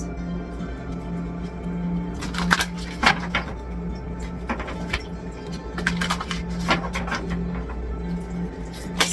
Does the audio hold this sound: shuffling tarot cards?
yes